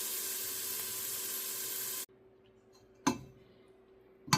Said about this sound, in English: I've put my sauce in with the onions and garlic and bacon, and it's on low, and I'm letting it simmer a little bit.